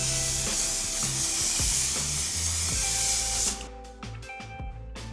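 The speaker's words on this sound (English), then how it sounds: "I'm gonna set my face with my One Size Until Dawn Mattifying Waterproof Setting Spray." Close-up hissing of a mattifying waterproof setting spray misted onto a face in repeated pumps. Several short sprays follow one another, then brief quieter hisses near the end, with no talking.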